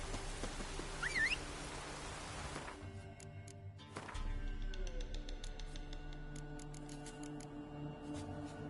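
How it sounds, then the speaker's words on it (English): A heavy downpour hisses steadily in The Witcher 3 as a dense wash of rain, with a brief higher squeal early on, then a lower rumble and scattered drip-like ticks continuing faintly to the end. "This downpour's a bastard"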